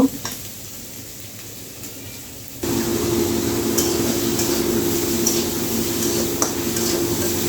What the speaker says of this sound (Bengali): ভালো করে নাড়াচাড়া করে পেঁয়াজগুলো ভেজে নেব